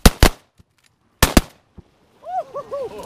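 Shotgun blasts from duck hunters firing at birds during a Colorado season opener: two loud close pairs of shots plus fainter distant reports, followed by excited shouting voices.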